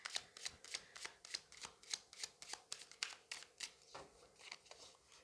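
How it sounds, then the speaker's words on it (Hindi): Tarot cards are shuffled by hand in a quick, regular run of crisp flicks and slaps, heard close and clear with no talking over them. "जब तक मैं कार्ड शफल कर रही हूँ,"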